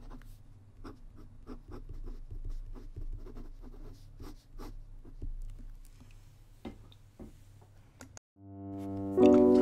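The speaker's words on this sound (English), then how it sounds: "No skipping, writes very fast." A Pilot Custom 845 urushi fountain pen writes on paper with close, quick, scratchy strokes in a steady patter, then a brief sustained tonal sound ends the passage.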